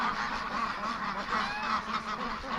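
Free-range ducks quack and honk continuously at close range, a busy overlapping chorus of nasal calls with no speech.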